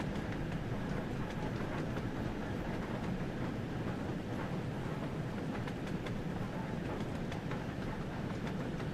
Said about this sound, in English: It's interesting how we can reliably hear truck sounds on this route,